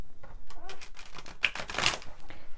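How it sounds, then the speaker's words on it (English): A deck of playing cards is shuffled up close, giving a rapid run of crisp riffling flutters and snaps that builds to a louder burst near the end. "one more shuffle."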